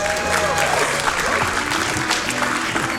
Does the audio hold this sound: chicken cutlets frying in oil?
no